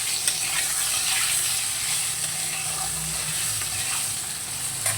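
Potatoes frying with salt and turmeric give a continuous, fairly loud sizzle with a few soft stirring scrapes and a low background hum, with no talk.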